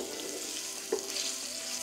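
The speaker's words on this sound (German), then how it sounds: "Ingwer lassen wir etwa eine Minute anbraten." Ginger and bell peppers sizzle steadily in a hot pan, a constant close frying hiss with one brief louder crackle partway through.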